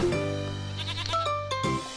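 A goat bleats in a long, wavering, nasal cry that is loud and close, with a shorter second bleat near the end and no talking over it.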